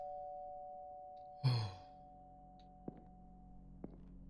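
A doorbell rings once in a comfy yet horrifying house-themed video game, a single clear chime over a quiet, steady hum, followed by two faint clicks.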